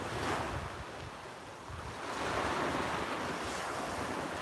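Strong wind on a beach buffets the microphone in loud, surging gusts, a continuous roar that swells and eases.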